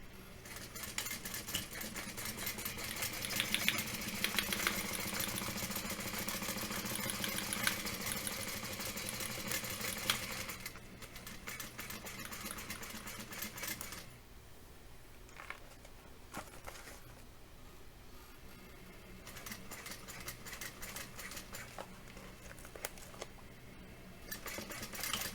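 A sewing machine stitches a tote bag in a loud, dense whirring run for about ten seconds, then drops to quieter, intermittent mechanical chatter and pauses.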